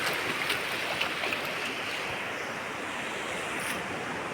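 Steady surf washes in at a beach resort on the Camaya Coast before sunrise, a continuous broadband wash of waves with light wind noise and no voices.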